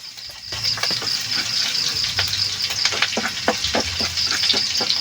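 Garlic frying in oil in a pan, a continuous bright sizzle with quick crackling pops and light stirring scrapes throughout, close and fairly loud.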